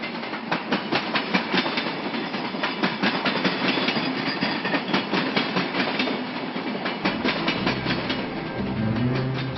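A historic locomotive, the second oldest surviving in Brazil, rolls along São Paulo Railway track with loud, close, rhythmic clickety-clack of wheels over rail joints and a low rumble joining near the end.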